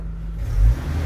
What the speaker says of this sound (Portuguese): Tá vindo carro aí, não?